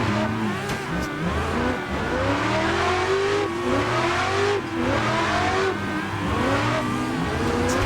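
A BMW E36 M3 engine in the Klutch Kickers video game revs hard and continuously while drifting, the pitch rising and falling with throttle over steady tire noise, loud and up close with no talk.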